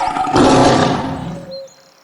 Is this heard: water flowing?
no